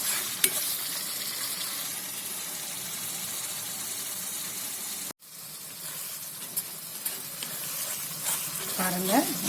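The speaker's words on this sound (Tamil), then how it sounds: "இந்த பூண்டு விழுதை நல்லா ஒரு 10 நிமிஷம் சிம்மில் வச்சு கொதிக்க விடுங்க" Garlic paste in tamarind water simmering and bubbling in a pan, a soft continuous sizzle with a brief cut midway and faint stirring clinks near the end.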